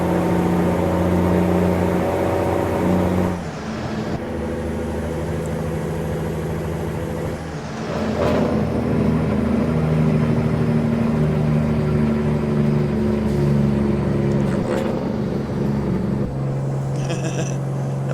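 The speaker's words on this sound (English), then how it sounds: "it is a good sounding truck" A heavy truck engine in American Truck Simulator drones loudly and continuously, its pitch shifting as it revs and changes gear, with brief dips and no speech.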